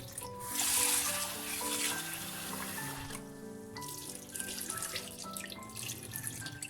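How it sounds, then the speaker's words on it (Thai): Glutinous sticky rice washed by hand in warm water in a kitchen bowl, with close sloshing, swirling and dripping water and scraping of grains throughout, no talking. "ซาวข้าวเหนียวให้สะอาดนั่นเองนะคะ ใช้น้ำอุ่นก็ได้นะคะเพื่อนล้างให้สะอาดเลยนะคะสองสามน้ำนะคะ"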